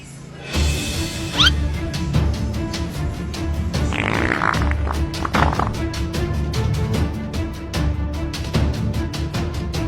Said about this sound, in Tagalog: Utot na pinasok sa rep, tumigas.